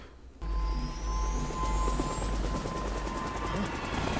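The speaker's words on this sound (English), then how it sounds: "Literally making the helicopter go up in the air by spinning the blades." A helicopter's spinning rotor in an animated X-Men '97 episode gives a steady low rumbling drone with a faint rising whine, continuous and fairly loud for several seconds.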